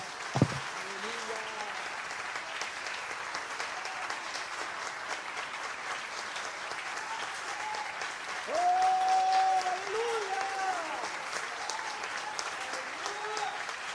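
Steady applause from a church congregation at an Easter service fills the whole stretch, with brief tonal voices or music rising partway through.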